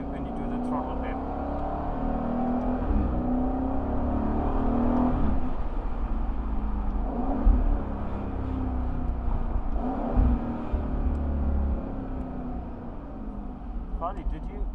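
A 2021 Aston Martin Vantage Roadster's engine drones steadily from inside the car, its pitch rising and falling as the throttle is worked, with a louder surge around the middle and a fading tail.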